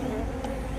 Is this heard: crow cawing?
no